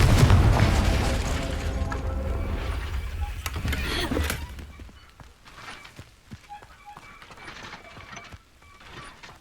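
A Confringo fire spell from the Hogwarts Legacy game bursts loudly at the start amid rumbling, mechanical clatter and effects, then decays into quieter ambient game sounds with scattered small clicks.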